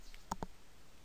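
Two quick, faint mouse clicks in a quiet room, close together, as a computer login button is pressed.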